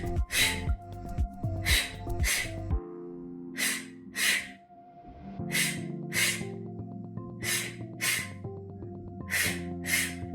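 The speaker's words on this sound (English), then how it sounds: "do 2 sharp little exhales towards your face" Sharp, breathy exhales during an intense Pilates floor workout, recurring in quick pairs over steady background music with a rhythmic beat, close and fairly loud.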